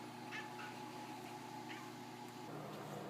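A house cat gives a few short, faint meows and mewling calls spaced over a few seconds in a quiet indoor room.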